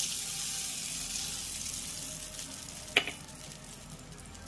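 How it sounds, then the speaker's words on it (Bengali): Hot tempering oil with curry leaves poured over chutney gives a steady close sizzle and hiss that swells briefly with a sharp splash near the end, with no voices. "এবার আমি তরকা ফোড়নটা এই চাটনির উপরে ঢেলে দেব"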